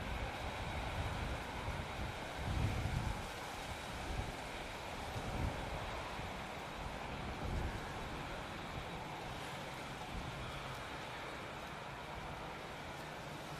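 Steady wind blows across an open airport field at Manchester Airport, a continuous rushing roar with low gusty buffeting against the microphone, moderately loud and unbroken with no talking.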